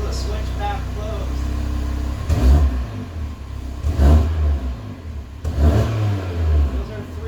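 An MK3 Audi RS3 with its AWE Switchpath exhaust in closed mode idles low, then gets three sharp revs in a row, each a deep swelling roar that quickly drops back to idle, recorded close by.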